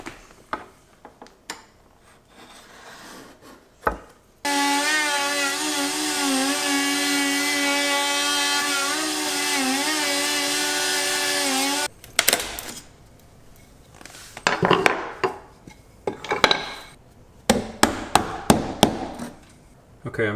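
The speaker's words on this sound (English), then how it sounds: "and then I can use a chisel to" A steady whining power tool runs first, then a chisel trims hardwood flooring around a flush floor register with sharp, irregular close taps and scraping knocks.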